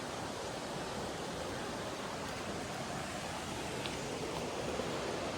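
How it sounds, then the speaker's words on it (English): Continuous rushing roar of a waterfall in Wales, steady and broad with no pauses or voices. "let's go and try and find this waterfall"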